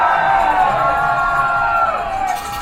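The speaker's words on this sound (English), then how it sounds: "Crowd cheering as Athletic Director Rushton of Wilton High School comes up to help fix the problem" A high school football crowd at a Wilton High School varsity game cheers in a loud, steady roar of many voices filling the stands, sustained throughout and tapering slightly at the end.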